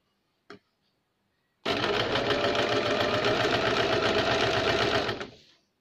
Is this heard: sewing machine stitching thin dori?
yes